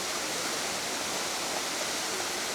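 Close, constant rushing roar of the Khao Ra waterfall in Thailand, a thick, even wash of falling water with no pauses and no other sounds standing out.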